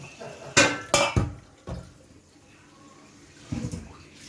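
Several sharp metallic clanks of a pot being handled and scrubbed, with splashing water in between and a final knock.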